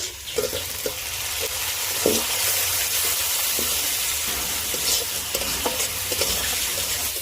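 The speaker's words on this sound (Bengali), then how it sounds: "এবার দিয়ে দেবো টমেটো কুচি।" Ginger-garlic paste and chopped tomato frying in a pan for a rohu fish curry, a loud steady sizzle with intermittent scraping knocks of a spatula stirring close by.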